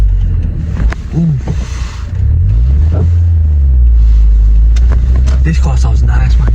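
A Toyota Auris SR car engine hums low and steady while driving, rising into a fuller drone partway through, heard from inside the cabin with a voice talking over it.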